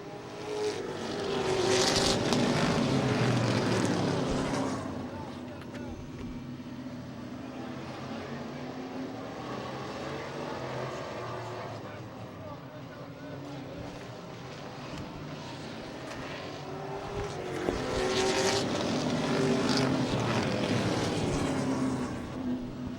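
Stock B Main race cars roar off the green flag start on opening night, a dense, sustained engine drone that swells loudly at the beginning and end as the pack accelerates past.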